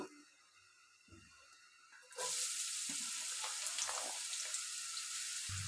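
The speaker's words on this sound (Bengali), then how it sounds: "এবার আমরা গরম তেলে করলাগুলো দিয়ে দিব।" Bitter gourd with onion, garlic and green chilli drops into hot oil and bursts into loud, steady sizzling frying after a few seconds of near quiet, heard close and alone.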